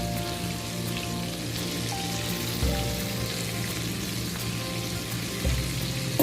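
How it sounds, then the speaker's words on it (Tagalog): Sauce sautéing in a pan for chicken drumstick lollipops, a steady dense sizzle running throughout with a couple of soft clunks, no voices. "Igigisa na natin yung sauce niya."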